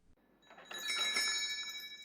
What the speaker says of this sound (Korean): 얼른 종소리 나는 문을 쳐다보았다